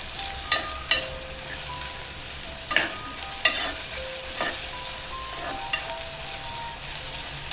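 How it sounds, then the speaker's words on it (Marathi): Sliced onion sautés in oil in a pan over low heat, a steady close sizzle broken by scraping spatula stirs and light clinks against the pan. "आपण हा कांदा परतत असतो तेलात"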